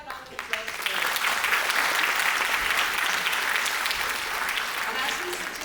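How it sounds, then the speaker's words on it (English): Dense, sustained applause from a school audience fills the hall, starting with a few claps and swelling into a steady, loud wash that holds until the end. "Can we have a round of applause for it?"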